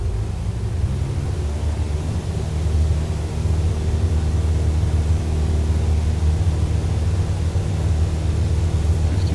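A light aircraft engine in Microsoft Flight Simulator 2020 roars at full power, a steady, dense, loud drone that holds without a break.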